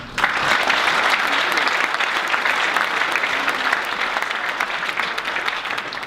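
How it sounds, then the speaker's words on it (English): A large audience at a startup conversation event applauds continuously for about six seconds, a dense, even wash of many hands that stays loud throughout without any speech. "She deserves a round of applause."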